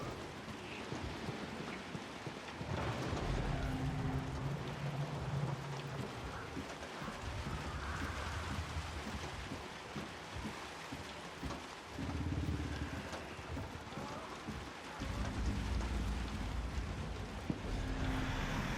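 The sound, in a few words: heavy rain in a video game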